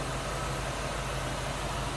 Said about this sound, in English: You can hear and see how smooth this car runs.